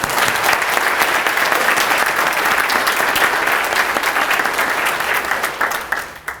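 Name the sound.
audience applause at a ribbon cutting ceremony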